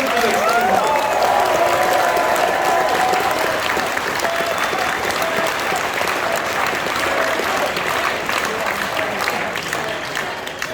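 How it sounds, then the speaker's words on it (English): Dense, sustained audience applause for Crimson at a Confuzzled 2022 opening ceremony, a loud crowd clapping steadily throughout with some cheering mixed in. "please, another big round of applause for Crimson to, do the good things"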